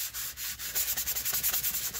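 Close, coarse rasping of light 60-grit sandpaper rubbed over chipboard, a few slower strokes at first, then fast, even back-and-forth scrubbing with no voices.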